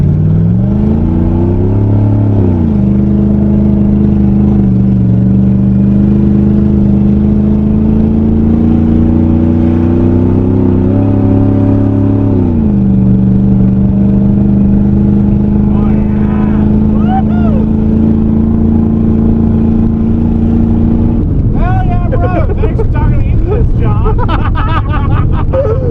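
A straight-piped propane engine idles at close range with a loud, steady low rumble, shifting in pitch twice before settling; it roughens near the end as background voices rise.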